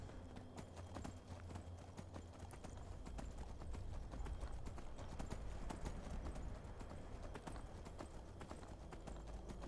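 Horse hooves clip-clop steadily in the video game Skyrim, a quick, even rhythm of hoofbeats that carries on throughout at a fairly low level.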